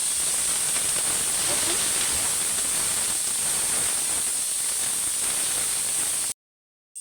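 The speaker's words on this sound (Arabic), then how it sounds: "ومعايا كده بصلاية صغيرة انزل بيها كده ونقلب كده" A small onion frying in local ghee, giving a strong, continuous sizzling hiss that holds steady before cutting off abruptly near the end, with a voice speaking briefly over it.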